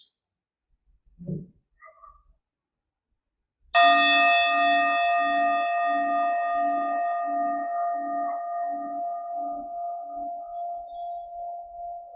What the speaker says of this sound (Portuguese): Deixa que o som do sino seja um sinal para relaxar, para soltar.